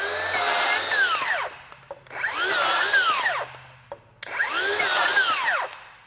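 A DeWalt FlexVolt 60V cordless saw fitted with a Diablo blade makes three loud, close cuts, each a rising whine that drops away, with short pauses between passes.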